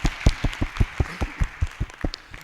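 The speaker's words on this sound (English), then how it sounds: "Guys, round of applause" A small group in a classroom-style session claps, sparse distinct hand claps in an uneven rhythm, fairly quiet and close.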